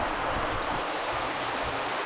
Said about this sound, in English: even though there's water flowing